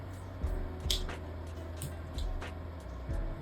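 Chicken broth, water and spaghetti with meat are stirred together in a pan, giving soft wet squishes and scrapes at irregular intervals, faint and close.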